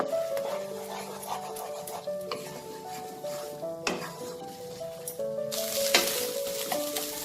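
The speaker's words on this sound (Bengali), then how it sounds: "ডিমটা ভেজে নেব।" An egg sizzles in a pan for noodle cooking, a crackling fry under scattered metallic clinks and scrapes of a utensil against the pan, with some tonal pan ringing.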